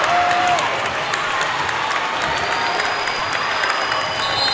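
At a high school volleyball championship, a gym crowd applauds and cheers in a dense, sustained clatter of clapping with faint shouts and whistles mixed in.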